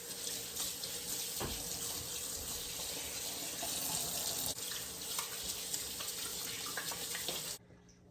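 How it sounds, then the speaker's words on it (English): Tap water runs steadily into a sink for hand washing in a home kitchen during turkey preparation, a continuous close splashing hiss that stops abruptly near the end. "Gotta wash my hands"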